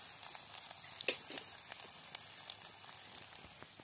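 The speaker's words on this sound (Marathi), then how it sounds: "मसाला आपण चांगला परतून घ्यायचा आहे" Mutton masala frying in a pan over a wood-fired chulha, a faint, steady sizzle with light crackles and pops, heard alone and fairly quiet.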